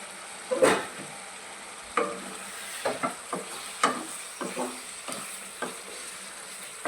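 Telangana-style chicken fry cooking in a pan with gravy and juices, a steady close sizzle broken by repeated stirring scrapes and clacks throughout, with no talk.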